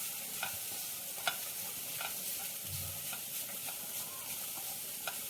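Grated carrots sautéing in ghee for carrot payasam, a steady soft sizzle with repeated scraping stirs of a spoon against the pan, fairly quiet and close, no talking.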